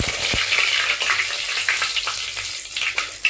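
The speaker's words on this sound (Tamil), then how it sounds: "கடுகு பொரிஞ்சிட்டு அடுத்தது கருவேப்பிலை போடுவோம்" Mustard seeds and curry leaves sizzle and crackle in hot oil in a pan while a spicy chili chutney is tempered, a steady bright frying hiss with scattered pops and no talking.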